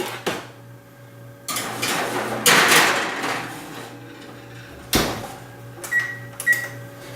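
In a home kitchen, a tray of roasted vegetables slides back into the oven for broiling, with metallic clatters and clunks and a door thud, then quieter clicks and beeps toward the end.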